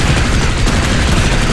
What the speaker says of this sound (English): Let my sentry gun do the work.